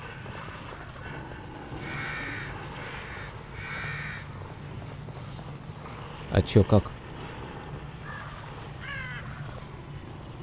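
Crows caw in the horror video game The Evil Within, a few harsh, clustered calls over a low ambient drone, with a person speaking briefly near the start.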